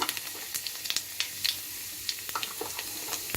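Cumin seeds crackle and sizzle in hot oil, a steady hiss punctuated by sharp little pops, close up and fairly quiet.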